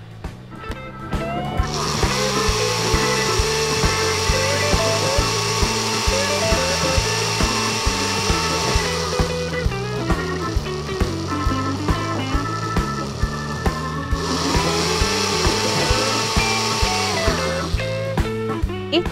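A blender runs steadily at full power, whirring and churning as it purées a cold soup, loud and continuous with a slight shift in pitch partway through, no talking over it.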